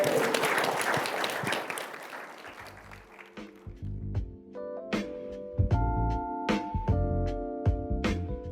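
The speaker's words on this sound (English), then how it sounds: "can you give yourselves a round of applause as well?" Applause from a large conference crowd of about 16,000 at the ALP National Conference swells loudly at first, then thins into scattered claps over a low musical backing.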